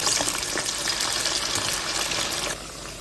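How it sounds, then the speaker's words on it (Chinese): Potato slices deep frying in hot oil, a loud continuous close bubbling hiss that drops suddenly in level near the end, with no talk. "锅里倒油，炸土豆片"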